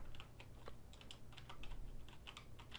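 Computer keyboard keys pressed in a steady run of light, crisp clicks, close and clear over a low hum, with no talk.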